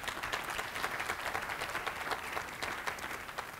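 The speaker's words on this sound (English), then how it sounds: "Big round of applause for Jonathan Adelstein." Steady applause from a large crowd, dense clapping at an even level throughout, with no voices standing out.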